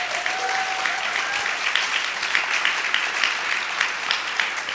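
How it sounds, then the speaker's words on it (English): Conference audience at a philanthropy panel applauds the panelists, steady, dense clapping from a large crowd, moderately loud and continuous, with a faint voice briefly at the start. "Can we get a round of applause for our panelists?"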